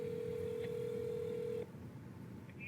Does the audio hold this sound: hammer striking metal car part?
no